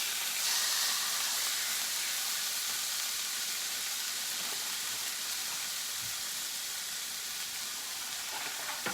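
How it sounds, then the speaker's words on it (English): Steak pieces searing in a very hot pan for a French dip, a steady, even sizzle and hiss that runs without break throughout at moderate level. "So I think that's been about a minute, so a really hot, quick sear."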